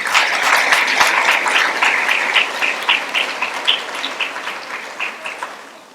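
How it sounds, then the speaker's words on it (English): Audience applause at a secondary school investiture ceremony for newly elected students, a dense burst of clapping that thins into scattered claps as it fades. "So a big round of applause to my children."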